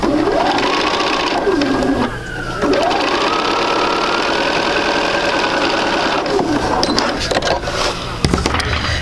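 A home sewing machine runs steadily as quilt block units are sewn, its motor whirring loudly and continuously, dipping briefly once and rising in pitch as it speeds up, with a few small clicks near the end.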